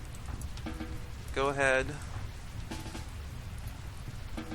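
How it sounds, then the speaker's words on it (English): Steady rain hisses continuously throughout a Rimworld game scene, a soft even wash of falling drops heard under a few brief spoken words. "luckily it's raining right now, so that'll actually help put out the fire"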